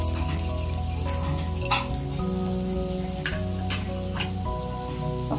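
Urad dal and chana dal frying in oil in a pan for a ridge gourd chutney, with a steady crackling sizzle and occasional stirring scrapes close up, alongside a sustained background tone.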